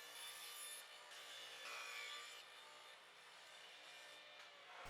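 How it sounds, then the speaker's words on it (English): Table saw fitted with a crosscut sled cutting through scrap wood during a desk build, a steady broadband whine and rasp lasting most of the moment at moderate, fairly even loudness with no talk. "using the crosscut sled, I'll square up one side and then cut the other to final length"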